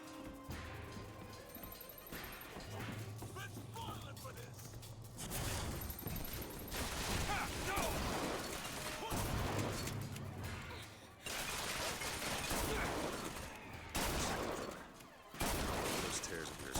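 Rapid bursts of gunfire from a gun in the video game Sky Rapture, loud and repeated with crashing impacts, layered over game music and effects, with a voice talking at times.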